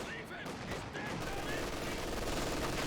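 Dense, continuous German MG42 machine gun fire in a Company of Heroes 2 battle, rapid bursts blending into a steady wall of gunfire layered with battle noise throughout.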